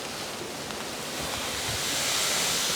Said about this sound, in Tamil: 3 கிலோ சர்க்கரையை நான் இப்போ கொட்ட போகிறேன்.